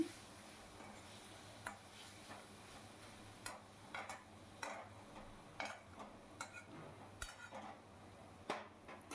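Spices being stirred in a pan for a taro (gathi kochu) curry, heard as faint, irregular scrapes and taps of a spoon against the pan, repeating every second or so over a quiet background.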